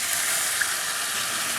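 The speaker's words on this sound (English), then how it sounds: "Now add 2 cups of water. It might splutter a little bit." Two cups of water poured into a hot pot of browned pork shoulder give a brief, even hiss of steam and spluttering, close by and steady, with no voices.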